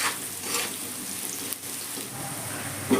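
Potatoes frying in hot oil in a wok, a soft steady sizzle with faint clinks and a brief scrape partway through, close and fairly quiet.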